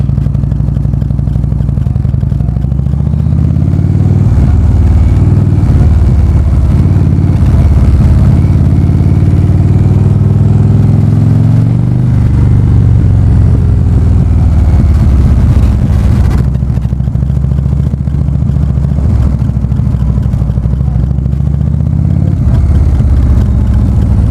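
An Indian Roadmaster cruiser motorcycle with stage 2 cams rumbles loudly throughout a ride, its deep engine note rising and falling with throttle changes and wind buffeting.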